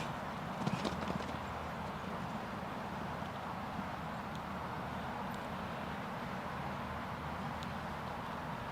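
The show jumping horse Chaco Blue 2, blind in his left eye, moves around a 1.40m course at an FEI 5* event; faint hoofbeats sit under steady, hushed arena ambience.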